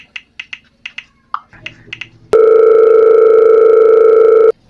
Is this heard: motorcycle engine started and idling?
no